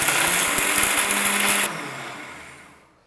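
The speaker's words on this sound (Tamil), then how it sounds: "இப்போ இது பொடியாக அரைச்சிக்கலாம்." A kitchen mixer grinder whirs loudly as it grinds roasted spices into powder for kalyana vatha kuzhambu, then cuts off and winds down to silence.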